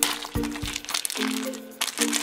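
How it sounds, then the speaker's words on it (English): Small plastic baggies crinkle and crackle as they are pulled out of a cut-open squishy toy, in a few close, sharp bursts with a faint tonal hum underneath. "I'm pulling out these little baggies."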